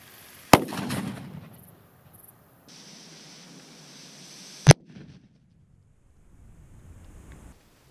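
A black powder filled cricket bomb detonates outdoors with a sharp, loud bang and a short rumbling decay. A second sharp crack follows about four seconds later over wind and surf-like background noise.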